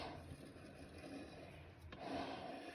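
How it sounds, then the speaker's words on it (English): Bowl gouge slicing a curl of wood on a lathe, a steady soft rubbing rasp with a brief break near the middle before the cut swells louder again, no talk. "I will be using the bottom side of this flute right there at a 45 to slice that wood."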